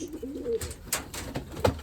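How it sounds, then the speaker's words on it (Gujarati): A pigeon sitting indoors with a chick gives a few soft coos amid close clatter and scattered rustling noises, moderately loud and near. "જો કબૂતર બેઠું છે અંદર અત્યારે"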